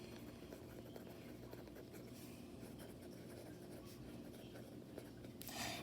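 Pen writing and drawing a box on notebook paper while filling in a customary measurements chart; faint, steady scratching strokes close by, with a soft hum underneath.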